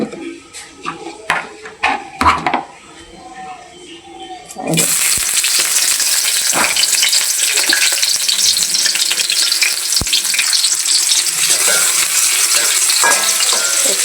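Onion, cumin and five-spice hit hot oil in a wok and burst into a loud, steady sizzle that runs on continuously, after a few seconds of quieter clinks and a speaking voice.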